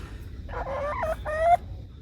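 Henny Penny, a broody hen in a chicken run, gives a single short, nasal clucking call of about a second, fairly close, against quiet background noise.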